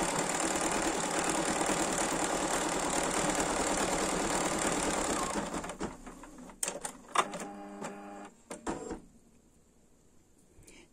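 A Bernina 780 embroidery machine stitching, a steady loud mechanical whirring hum for several seconds, then slowing to uneven clicks and thumps before stopping.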